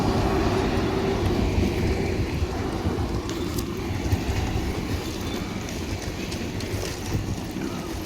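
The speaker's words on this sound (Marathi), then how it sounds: "मँगलोर एक्सप्रेस गेली" The Mangalore Express passenger train rumbles past in a steady, heavy roar with faint clickety-clack of wheels on rail joints. It stays loud and close throughout with no voices.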